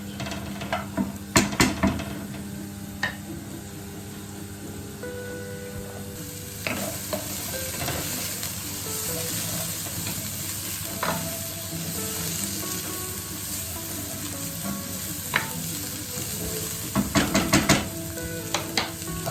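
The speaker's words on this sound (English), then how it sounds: "Fry them off until they're nice and soft." Onions fry in a pan for a crustless quiche, giving a steady close sizzle throughout with scattered utensil scrapes and stirring clatters, busiest near the start and again toward the end.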